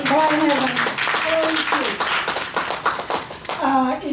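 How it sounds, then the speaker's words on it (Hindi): An audience claps at an Urdu poetry gathering (mushaira), a steady patter of hands that runs for about four seconds while a voice speaks over it nearly throughout. "आपकी तालियां हमें ज़रा ज़ोरदार चाहिए"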